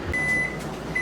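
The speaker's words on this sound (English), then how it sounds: "There's the timer, the water bath's done." Kitchen timer sounding while fig preserves finish in a boiling-water canning bath, giving a thin steady electronic tone that holds and then chirps again near the end, over quiet room noise.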